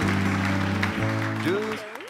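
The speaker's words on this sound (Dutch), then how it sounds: "Ja, applaus voor Joey" An audience at a public lecture event applauds under a sustained musical accompaniment, the clapping dense at first and tapering off as the music carries on.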